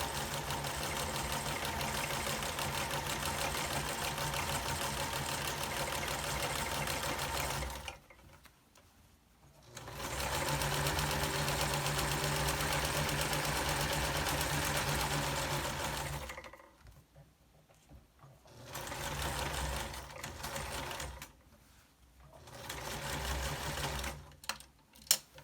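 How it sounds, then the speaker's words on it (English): A sewing machine stitches bias tape onto a cloth face mask, running in a fast steady whir for several seconds, pausing, then resuming in shorter bursts with quiet gaps between runs. "you'll be sewing the bias tape at about a 3/8 seam allowance. Just go nice and slow so you don't accidentally sew off the edge of the tape"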